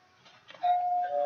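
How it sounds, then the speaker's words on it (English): A doorbell rings nearby: a soft chime followed by a sustained ding tone, fairly clear against a quiet room, with no talking. "Doorbell."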